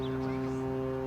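A deep, steady horn from a cargo ship loaded with grain blares continuously in port, loud and sustained, with a low droning tone.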